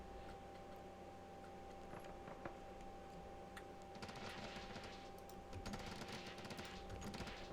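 Fireworks crackle and pop in the Planet Coaster game, quiet rapid ticking bursts that grow denser and busier in the second half, with a low steady hum underneath.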